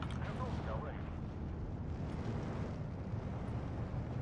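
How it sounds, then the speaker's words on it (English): Mortar fire in the Steel Division 2 war strategy game, heard as a steady, dense low rumble of distant battle noise with no clearly separate blasts, holding at the same level throughout. "We've got to keep moving away from these mortars."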